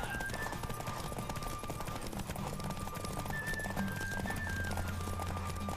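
Galloping horse in a Witcher 3 video game race, a steady dense clip-clop of hooves running continuously under constant game ambience and music, with no gaps.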